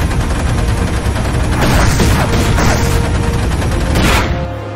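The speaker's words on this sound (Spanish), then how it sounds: "Eso eran fireworks" Fireworks in a Warhammer space marine fan film, a dense, continuous barrage of loud crackling bursts and booms that stays steady and full for several seconds before easing off at the end.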